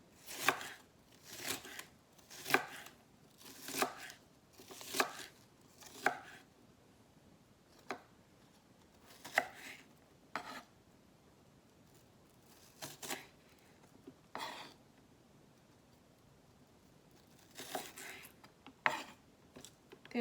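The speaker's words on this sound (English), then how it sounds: "we're going to cut this onion into wedges" A knife slices an onion into thin wedges on a cutting board, giving crisp, close chops in short bursts of several quick strokes separated by pauses.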